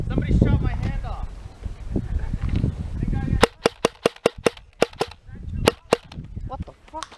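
A rapid string of sharp airsoft gun shots cracks out in a field skirmish, around a dozen distinct snapping pops, close and loud, following earlier shouting from players.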